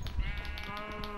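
Sheep bleating in the video game Minecraft, a single wavering, buzzy bleat that sustains across the moment, fairly close and clear with no talk.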